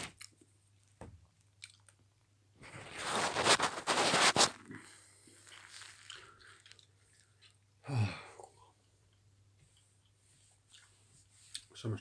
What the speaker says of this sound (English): So much chewing.